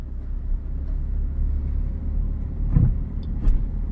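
Engine of a car picking up speed during a driving lesson, a steady low hum and rumble heard from inside the cabin, with a couple of small knocks or bumps near the end.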